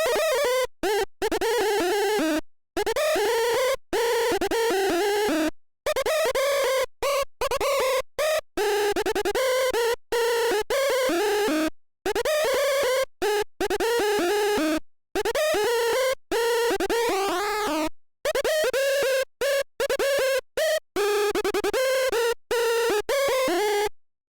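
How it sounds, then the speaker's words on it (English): A bright, buzzy synthesizer top lead wobbles with an LFO while a filter sweeps its tone, playing choppy rhythmic phrases with frequent abrupt gaps, loud and alone. "I was just playing a little bit with the filter, and that filter position is going to change the entire sound of that top lead."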